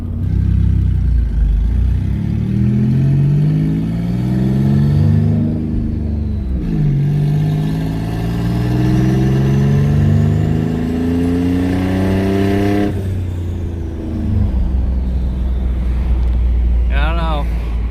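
A twin-turbo V6 Mustang revs hard under full throttle in second gear, its loud engine note sweeping upward, easing off, then climbing again before dropping away near the end, heard from inside the car.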